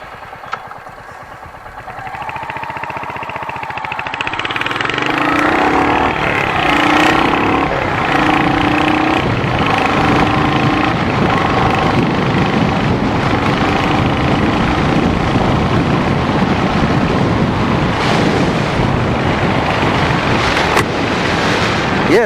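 Royal Enfield Hunter motorcycle engine rising from idle into a loud, sustained riding drone on the road, with shifting revs, steady exhaust throb and wind buffeting filling the whole stretch.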